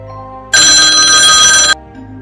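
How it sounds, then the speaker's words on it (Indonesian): A desk telephone rings loudly and close for about a second, a bright electronic trill that starts and stops abruptly over a quiet background. "Suara telepon di meja Mira tiba-tiba berbunyi, sampai membuatnya terlonjak"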